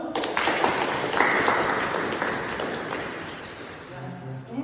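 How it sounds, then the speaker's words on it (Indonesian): A room of students applauds a class presentation group, a dense steady wash of clapping that holds for several seconds and slowly fades, with a few voices mixed in underneath. "berikan aplaus kepada kelompok 1"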